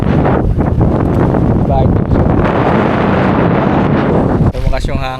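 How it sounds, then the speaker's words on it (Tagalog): Strong wind beside the sea during a fishing trip buffets the microphone in a continuous loud rumble. A person speaks briefly near the end. "Lakas ng hangin"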